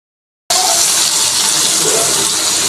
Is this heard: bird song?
no